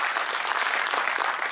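An audience at a lecture on the banks of the Ganges claps in a steady, dense patter, moderately loud and continuous with no pauses.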